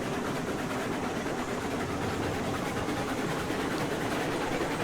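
A Climax steam engine runs in the railroad game Railroad Online, with a dense, continuous mechanical roar and hiss at a steady loud level, unbroken throughout.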